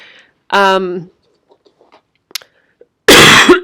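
A person recovering from illness lets out two loud, harsh coughs close to the mic, separated by a quiet pause with faint small clicks and rustles.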